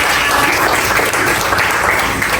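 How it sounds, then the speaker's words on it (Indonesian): Applause from a classroom of students during a lesson, a dense steady burst of many hands clapping together, loud and close, filling the whole moment without pause. "Tepuk tangan buat semuanya."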